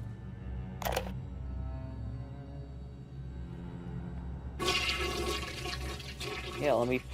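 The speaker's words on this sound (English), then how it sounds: "let me flush the toilet" A toilet flushes in BioShock, a rushing gush of water that starts abruptly after a sharp click and fills the second half, with a voice briefly heard near the end.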